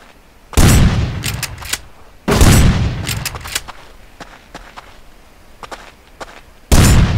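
Gunfire in the survival video game Rust: loud, sharp bursts of rapid shots with quieter single cracks and short pauses between volleys, the firing ending abruptly.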